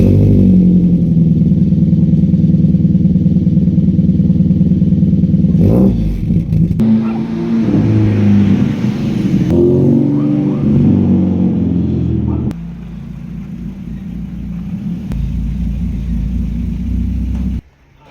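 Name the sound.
car engine cold start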